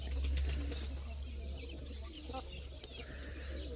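Chickens and a rooster in a backyard flock, with soft wing flapping and faint clucks that stay low and continuous against a steady low hum and background noise.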